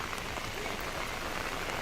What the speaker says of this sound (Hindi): लगातार भारी बारिश यहां पर हो रही है